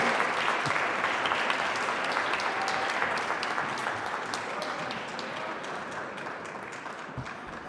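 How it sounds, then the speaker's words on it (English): Sustained applause from an audience at a student government day in a school setting, many hands clapping steadily throughout and gradually tapering toward the end. "One more big round of applause for our students."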